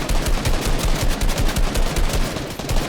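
Loud, rapid gunfire from a Fortnite match, Star Wars edition, rattling in a dense, continuous stream of bursts for the whole stretch with no voices over it.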